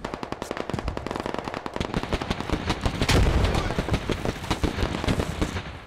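Rapid bursts of automatic gunfire and a heavy grenade blast in the military shooter game Squad, with dense overlapping shots, a loud explosion near the middle and continued firing after it.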